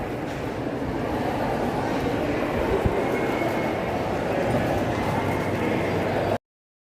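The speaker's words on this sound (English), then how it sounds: "This is Coney Island train station." A train at Coney Island station gives off a steady, moderately loud rumble and rolling rail noise that runs continuously before cutting off abruptly.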